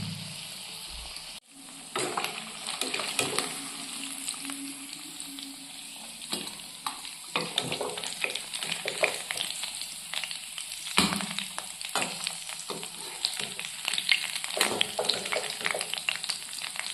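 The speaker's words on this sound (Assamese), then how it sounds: "মাছখিনি ফ্ৰাই হৈছে এতিয়া আমাৰ মাছখিনি ফ্ৰাই হৈ গৈছে" Rohu fish fries in a pan with a continuous crackling sizzle, broken by irregular clattering stirs and scrapes, close and moderately loud.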